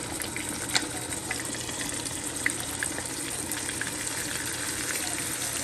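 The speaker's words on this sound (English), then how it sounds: "So you want to let this fry up for about a minute, okay?" Chopped garlic and curry fry in oil in a pot, giving a steady, close hissing sizzle with occasional small pops and crackles throughout.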